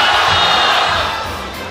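Loud, dense crowd roar at a Super Smash Bros tournament, the Umebura Japan Major 2019, a steady wall of cheering that holds throughout and eases slightly toward the end.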